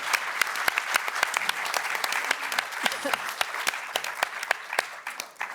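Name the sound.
audience applause for a pitch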